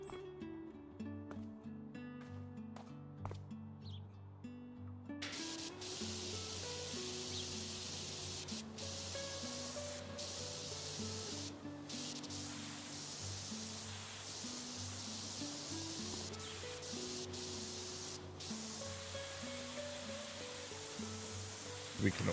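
A pressure washer with a snub nose nozzle in Powerwash Simulator kicks in after a quieter start with faint background music, then sprays as a loud, constant broadband hiss that holds to the end.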